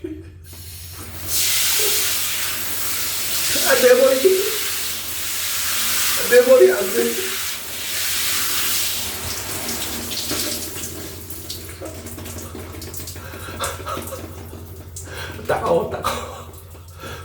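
A high-pressure shower head sprays water hard onto someone's head, a steady close hiss of rushing spray that swells and drops, while a man cries out a few times over the flow.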